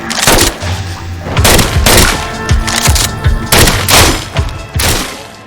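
Loud, repeated gunfire in the VR zombie shooter Arizona Sunshine, sharp shots in quick bursts with booming low thumps and short gaps between volleys.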